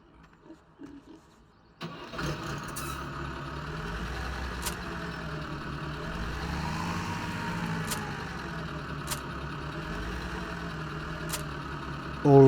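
A tractor engine in the Farming Simulator 17 video game starts after a quiet moment and settles into a steady mid-pitched idle that slowly swells and eases.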